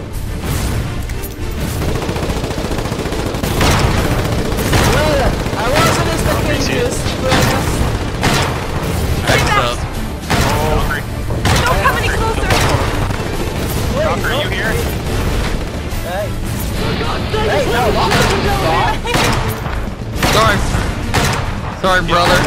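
In a naval video game, 68-pounder cannons fire at a frigate in a dense run of heavy booms and crackling shots, many overlapping and loud, while people talk excitedly over the barrage.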